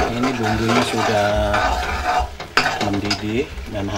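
Spice paste bubbling and cooking in a pan, stirred with a utensil in scraping strokes over a soft sizzle, close up, with a voice heard faintly at times.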